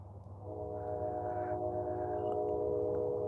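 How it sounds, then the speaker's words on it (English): A train passes at night near a woodland bushcraft shelter, its horn sounding as a steady multi-tone chord that rises in and holds loudly over a low rumble of wheels for several seconds, with no talk. "There's a train."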